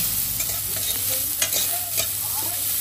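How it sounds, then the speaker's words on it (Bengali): Chopped onion being stirred in a dry kadai with no oil or butter, a steady scraping and stirring with a faint sizzle running close and continuous, and no voices. "এরপর পেঁয়াজটাকে 2 থেকে 3 মিনিট একটু নেড়ে নিচ্ছি, যতক্ষণ না নরম হচ্ছে।"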